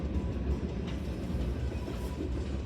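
BNSF southbound freight train of empty oil tank cars rolling past in Stanwood, Washington, a dense low rumble with rhythmic wheel clatter, steady and fairly close, no talk.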